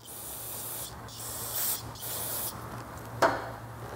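Compressed air spraying to blow out a carburetor part from a 1978 Vespa P200E scooter, heard as steady hissing bursts with short breaks and a sharp blast near the end, close and fairly quiet.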